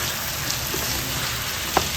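Pork sautéing in oil in a pan for a crispy lechon-style pork chop, giving a steady close sizzle and crackle throughout with one brief sharper pop near the end.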